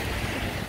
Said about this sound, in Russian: Волны есть, все сходится.